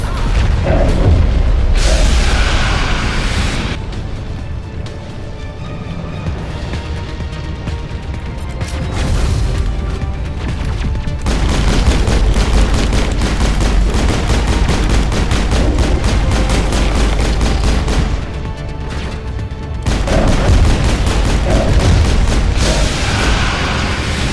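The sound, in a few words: gunfire in the video game Mass Effect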